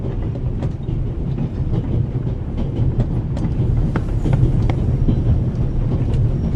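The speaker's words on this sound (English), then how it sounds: "The noise on this train is driving me crazy." Steady rumbling train noise aboard the Orient Express in a mystery video game, a dense low roar with faint clickety-clack and small rattles throughout, close and continuous with no voices.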